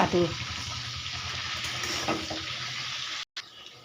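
Leaf-wrapped tilapia paturi fry in hot oil, a steady soft sizzle running throughout, with a few faint clinks near the start and a brief dropout near the end.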